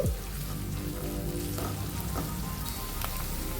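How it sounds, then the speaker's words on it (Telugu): Onions with curry leaves fry in a pan with a continuous close sizzle and crackle, steady throughout, with a brief clatter at the start and a few faint utensil touches. "చూడండి ఉల్లిపాయలు ఈ విధంగా ఫ్రై అయితే సరిపోతుందండి"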